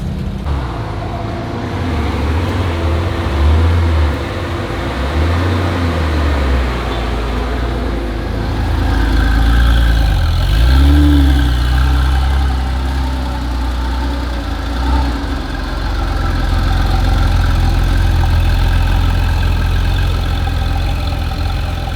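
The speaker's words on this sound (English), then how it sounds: "Did I tell you the car was loud?" A Porsche 997 slant nose runs loud and close, its deep engine rumbling at idle and swelling in a few slow revs, with steady low drone throughout and no talking.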